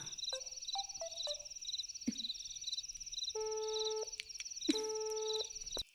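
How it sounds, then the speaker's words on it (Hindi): Electronic telephone tones from a call that won't connect: a steady high tone under a run of short repeated beeps, then several falling and held tones, with no voices. "अरे उसका फोन तो लग ही नहीं रहा है।"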